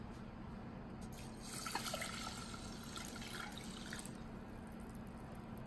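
Water being poured from a tap into a container for microwave taco rice, a faint, steady splashing stream lasting several seconds in a quiet kitchen.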